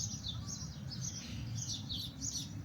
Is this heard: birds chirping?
yes